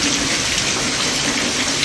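Steady rain falls in a village, a dense even hiss of drops that holds at constant loudness throughout with no voices.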